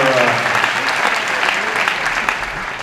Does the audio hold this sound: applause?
yes